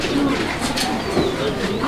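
Racing pigeons coo softly and repeatedly up close, with a low, steady rustle of wings underneath.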